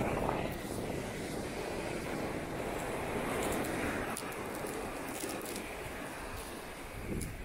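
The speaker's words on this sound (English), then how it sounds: "They actually got waves here." Ocean waves wash steadily onto the sand at Macao beach near Punta Cana in the Dominican Republic, a broad continuous surf roar mixed with wind rumble on the microphone, with no distinct breaks and no talking.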